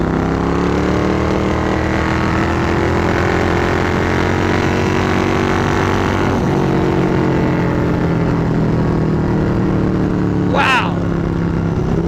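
A 1995 Suzuki Intruder VS800 motorcycle's engine drones steadily and loudly while being ridden, with wind rush throughout and a brief rise in pitch near the end as the bike accelerates.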